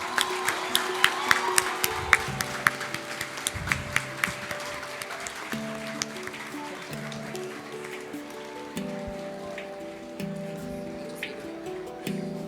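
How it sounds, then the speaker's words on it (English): Scattered audience applause for Dr. Reena Verma at an entrepreneurship conclave, individual claps ringing out over a low hum before thinning to sparse, distant pats. "A big round of applause for Dr."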